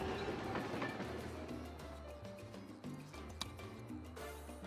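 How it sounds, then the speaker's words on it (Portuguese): A metro train in the Tropico 6 city-building game gives a continuous rumbling rail clatter with a low humming tone and occasional clicks, steady and moderately loud throughout. "Ah, tem metrô. O metrô já resolve."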